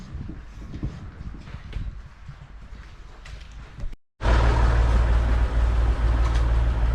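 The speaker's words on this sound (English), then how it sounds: "the separator works with electric motors" A farm slurry separator driven by electric motors starts up after a brief silence, its loud, steady motor hum and mechanical churning filling the space and holding constant, following a quieter stretch of farm background noise.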